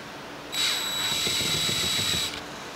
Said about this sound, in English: This is for my countersink.